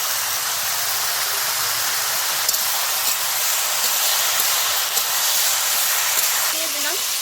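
Green chilies hit hot mustard oil while a Bengali fish curry with ridge gourd cooks, giving a steady, loud, hissing sizzle throughout; a brief voice is heard near the end.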